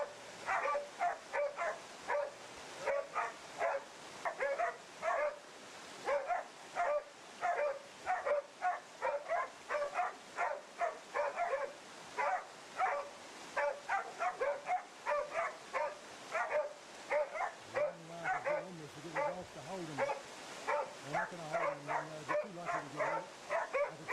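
Several dogs bark and yip in rapid, repeated bursts at close range while baying a wild boar, with whimpering and excited yelps mixed in near the end.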